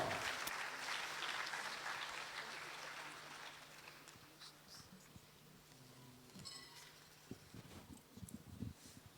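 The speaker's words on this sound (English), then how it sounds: "Give them a round of applause as they come up." An audience claps in a university auditorium at a youth conference, loud at first and gradually fading into scattered claps, with some faint background voices and shuffling toward the end.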